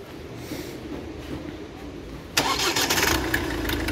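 A Ford Focus Euro 5 car with Siemens injectors cranks and starts. After a quiet stretch the engine catches abruptly and settles into a loud, close, steady idle.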